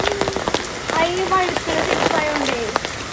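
Steady heavy rain patters on a surface throughout while people talk over it, with a few sharper drips standing out.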